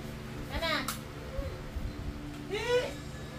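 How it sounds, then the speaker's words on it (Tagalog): A cat meows twice indoors, each a clear rising-falling call separated by a pause, with faint household noise and children's voices nearby. "Chari, palabasin mo yung pusa."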